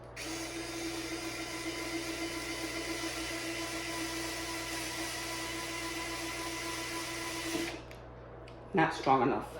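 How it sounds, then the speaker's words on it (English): A larger power drill bores steadily into solid wood, a loud continuous whine holding for about seven and a half seconds before cutting out, followed by a few brief clunks and handling noises. "I will go to our bigger drill."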